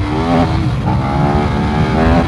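A 2021 KTM Super Duke R motorcycle engine revs hard and climbs in pitch, loud and close, with steady rising harmonics throughout.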